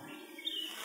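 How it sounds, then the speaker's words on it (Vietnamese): Birds sing outdoors at dawn in a deep forest, a faint high chirp and twitter carried over a soft, steady airy background, with no voices. "nghe chim hót gió thoảng"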